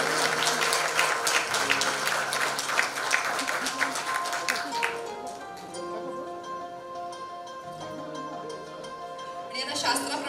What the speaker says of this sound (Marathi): तुमच्यासाठीच्या जोरदार टाळ्या मी आधीच वाजवून घेतल्या.